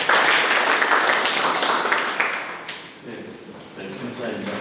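Audience at a Korean academic presentation clapping to welcome the next speaker, a dense burst of applause that fades after a few seconds.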